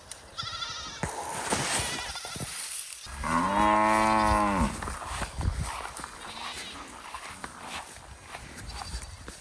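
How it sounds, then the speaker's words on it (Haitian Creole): Cattle low on a farm in Haiti's Nord-Est department, one long deep moo rising clearly above background chatter and farmyard noise, fairly close and loud. "Guys, nous sommes là. Avec les bœufs là."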